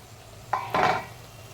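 A pan clatters twice while leafy greens fry on a home stove, a short metallic knock followed by a louder scraping rattle of about a quarter second, close by and otherwise quiet.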